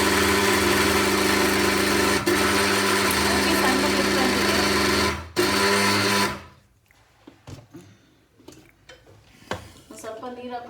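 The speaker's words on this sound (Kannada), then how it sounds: "ಸ್ವಲ್ಪ ನೀರು ಹಾಕೊಂಡು ರುಬ್ಕೋಬೇಕು ಪೇಸ್ಟ್ ಮಾಡ್ಕೊಂಡು." A kitchen mixie grinds coconut and jaggery into a paste for akki paisa, a loud steady motor whir for about six seconds before it stops, followed by scattered clatter and handling noises.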